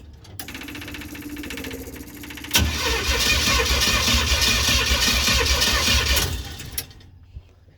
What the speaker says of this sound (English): We're going to fire it up with the valve cover off and with the spark plugs out